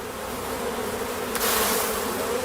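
Honeybees buzz at a straw bee skep in a close, continuous hum that swells slightly partway through.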